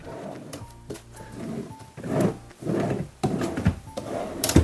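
A wooden drawer in a sofa armrest slides open and shut several times, with scraping, rubbing and light knocks close by.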